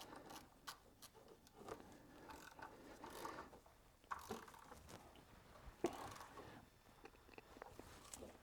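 A ratchet tightens a bolt on the water pump of a 2000s Vauxhall Corsa D 1.2, producing faint, close clicking pawl sounds in short irregular runs with small metallic knocks.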